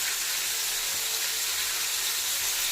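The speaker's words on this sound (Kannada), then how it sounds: "ಹೈ ಫ್ಲೇಮಲ್ಲಿ ಡೀಪಾಗಿ ಫ್ರೈ ಮಾಡ್ಕೋಬೇಕು ಇದನ್ನು ನೀಟಾಗಿ." Onions and capsicum deep-frying in oil over a high flame for egg rice, giving a steady, loud hiss and sizzle with no pauses or voices.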